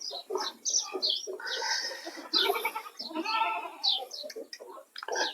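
Goats and their young kids bleat repeatedly and overlapping during feeding, as kids suckle from a held nanny goat; the calls are close, loud and continuous, with no one talking.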